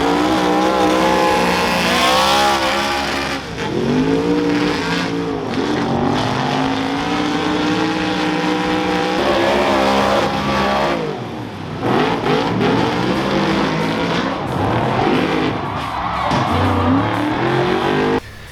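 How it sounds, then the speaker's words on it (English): High-pitched superstock race car engines scream and rev continuously, rising and falling as they accelerate and shift, loud and close throughout. "Listen to these cars scream, absolutely scream."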